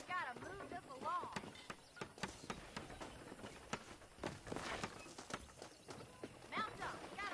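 Horse hooves clip-clop in the Red Dead Redemption video game, a quick uneven trot of hoofbeats with the occasional neigh, heard under characters talking.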